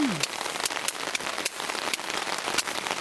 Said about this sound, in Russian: Дождь барабанит не по стеклам, а по тенту моей палатки.